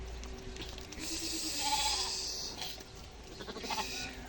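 A herd of young goats, including kids and does, bleating intermittently over steady farm background noise, with several overlapping calls of moderate loudness and no talking.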